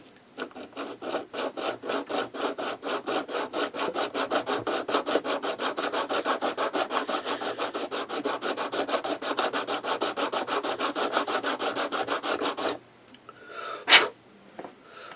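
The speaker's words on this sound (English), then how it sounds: "I think I'll use my sanding block again to get the nice straight edge I want." Rapid, steady back-and-forth rasping of a sanding block on a wooden model grain elevator piece, straightening its edge, close and continuous for about thirteen seconds, then stopping, followed by a short sharp noise.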